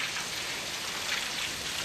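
Heavy rain from Tropical Storm Beta pours down steadily on a wooded backyard in Rosenberg, Texas, just after midnight, a dense, even hiss with no pauses and no voices.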